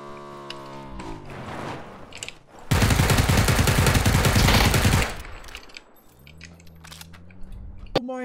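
Sustained burst of automatic gunfire in the battle-royale game PUBG, loud and dense for a couple of seconds, framed by softer game noise and a voice talking before and after.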